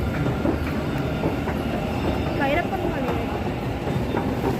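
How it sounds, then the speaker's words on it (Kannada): A metro train rumbles past nearby in the city, a continuous clattering roar of wheels on track with a brief rising squeal partway through, as people talk underneath. "ಇಲ್ಲೊಂದೇ ಮೆಟ್ರೋ ಇರೋದು"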